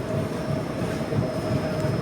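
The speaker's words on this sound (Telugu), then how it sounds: "మన ట్రైన్ అయితే స్టార్ట్ అయిపోయింది కసర్గోడ్ రైల్వే స్టేషన్ దగ్గర నుంచి" The Chennai Mangalore Mail pulls out of Kasaragod station, a continuous rumbling train noise with a steady low roar and a faint whine, heard from on board.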